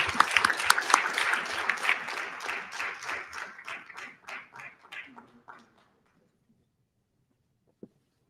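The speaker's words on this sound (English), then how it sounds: "Let's give them a round of applause." Audience applause at a city council meeting in Norwalk, dense clapping that thins into scattered individual claps and fades to silence after about six seconds, then one last isolated clap.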